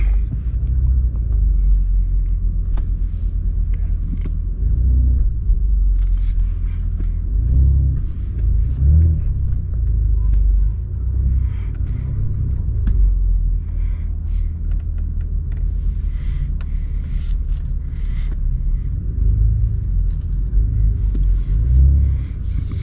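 Sports cars at a cars and coffee meet, a steady deep engine rumble idling and rolling nearby, with occasional small mechanical clicks and swells, continuous throughout.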